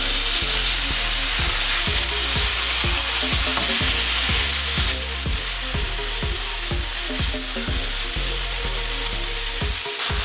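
Beef steaks with garlic and rosemary sizzle loudly and steadily in a hot pan, a dense close frying hiss over a low rhythmic background beat.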